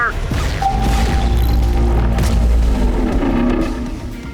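A video game ATGM missile launch rumbles in as a loud, sustained low boom with crashing debris across the whole stretch, then fades slightly toward the end.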